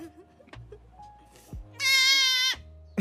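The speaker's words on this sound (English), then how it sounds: "That small goat." A small goat lets out one loud, sustained, wavering bleat lasting under a second, close to the listener, with softer brief animal sounds and low rumbles around it.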